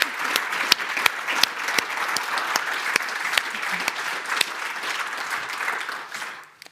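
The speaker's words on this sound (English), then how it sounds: "a big round of applause" A pharmaceutical supply chain conference audience in Dublin claps in a long, even round of applause with sharp individual claps audible, fading out toward the end.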